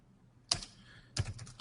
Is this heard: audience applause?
no